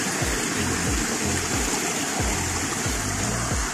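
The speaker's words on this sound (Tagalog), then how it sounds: "Ayun yung falls." Erskine Falls, a waterfall in Victoria, Australia, sends up a steady, dense rush of falling water that fills the air evenly throughout, with light splashing and gurgling underneath.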